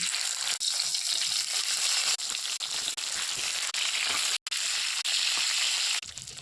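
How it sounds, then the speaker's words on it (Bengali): A bhetki fish head frying in hot oil with turmeric, salt and chilli coating, a loud continuous close sizzle with crackling spatter and a few brief dips, no voices. "তেল গরম হয়ে গেছে, ভেজে নেব।"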